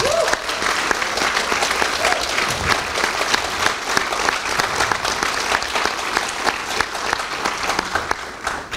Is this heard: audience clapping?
yes